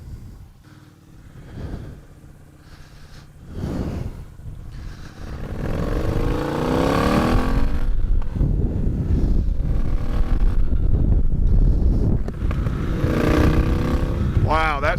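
A Triumph Bonneville T120 with a Tec 2-into-1 exhaust, ridden on the road, its engine rising from a quieter start into a steady loud drone with wind rush and a brief throttle change.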